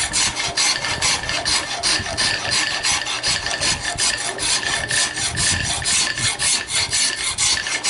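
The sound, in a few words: filing hard walnut wood with a file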